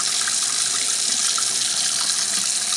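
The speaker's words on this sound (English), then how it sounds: "I still got to wash my hands." Water runs steadily from a kitchen tap into a sink while hands are washed, a continuous close splashing hiss with no talking.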